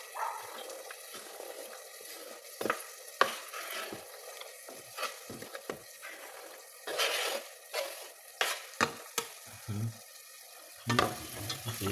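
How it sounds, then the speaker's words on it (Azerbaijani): Onion and carrot frying in a pan, a soft sizzle broken by repeated scraping stirs and clattering bursts, close and fairly quiet. "gördüyünüz kimi soğanımız qovrulur və kökümüzü əlavə edirik"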